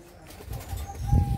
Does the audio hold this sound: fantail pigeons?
yes